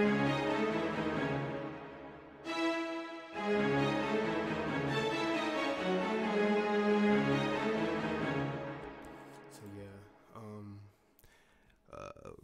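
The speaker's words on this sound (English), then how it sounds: "I just took these kind of jumping piano notes and then I just layered my strings over" In a trap beat, bouncing piano notes sit under layered strings, with sustained melodic chords swelling and shifting for several seconds before thinning out into sparse hits at the end.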